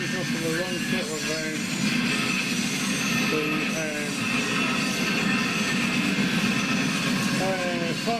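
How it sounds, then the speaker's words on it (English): An HO scale Triang Transcontinental model train runs fast on a mainline track, giving a steady close rolling hum and rattle with occasional squeaky wheel tones throughout. "The mainline train putting in the Triang Transcontinental, quite fast really."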